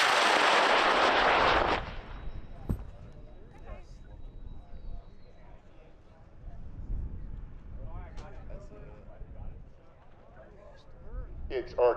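A high power rocket on an I motor roars off the pad at an outdoor launch event, a loud broadband rush for about two seconds that cuts off abruptly, followed by quieter outdoor ambience with voices.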